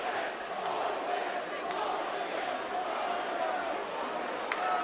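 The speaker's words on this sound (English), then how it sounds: "the crowd responds, as you can hear" A boxing arena crowd reacts loudly to a fight decision, a steady wash of jeers and shouts filling the hall, with faint commentary voices mixed beneath the din.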